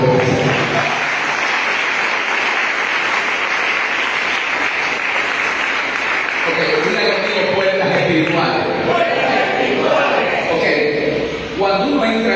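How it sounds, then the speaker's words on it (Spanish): A congregation at a thanksgiving church service breaks into loud, sustained applause that fills the room, with voices and cheering rising over the clapping in its second half. "Denle un aplauso por eso."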